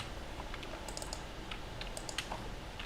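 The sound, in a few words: typing on a computer keyboard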